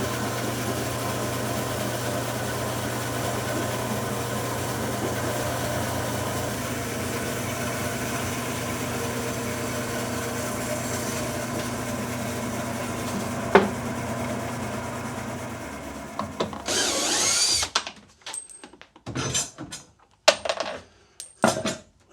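A band saw hums steadily as it slices through spalted maple veneer on a plywood carrier, then the motor shuts off and spins down, leaving scattered clunks and handling noises close by.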